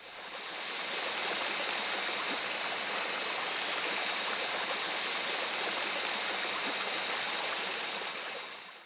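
The Sunguri Khola, a mountain river flowing through forest, gives a steady loud rush of water, constant and close throughout with no voices.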